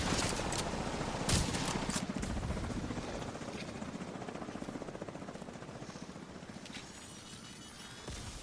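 Helicopter rotor chopping steadily in the Division 2 video game, loud and close, with bursts of gunfire mixed in and a sharp impact near the start.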